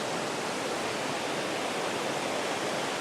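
Steady rushing water of a spring stream flowing beneath a trail bridge in the Smoky Mountains, a dense, even broadband roar that fills the whole moment close by with no voices over it.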